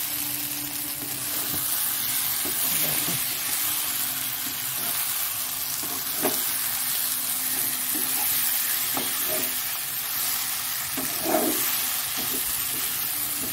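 Egg curry is stir-fried (kosha) in a pan, with a steady close sizzle and hiss and occasional scraping stirs, with no talk.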